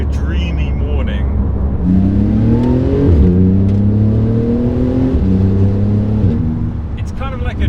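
Porsche GT2 RS Weissach on an open road, its engine pulling hard through the gears with rising, sweeping notes and a short break between shifts, loud and close, with a voice talking over it.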